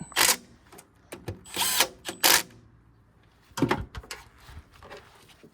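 Short bursts from a power drill tightening a bolt on a Craftsman riding mower, several quick whirring pulses in the first two seconds, a pause, then a few more brief bursts, close and fairly loud.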